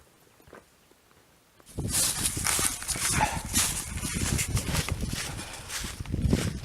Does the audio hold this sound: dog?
yes